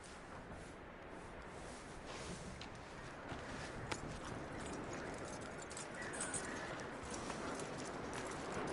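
Horse hooves clip-clop at a walking pace on hard ground, fairly faint and a little distant, with a few sharper individual strikes over quiet outdoor ambience.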